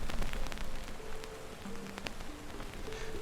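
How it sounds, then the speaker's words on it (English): Rain patters steadily on surfaces all around, soft and fairly quiet, with scattered sharper drops ticking nearby and no voices. "You can hear the patters of rain surrounding your space."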